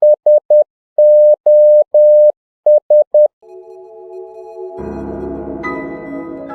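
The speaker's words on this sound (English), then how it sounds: "the SOS sound that plays, like the Morse code sound" A beeping Morse code SOS pattern from Breath of the Wild music, three short, three long, three short tones, clean and loud, followed by a swelling musical passage that rises underneath.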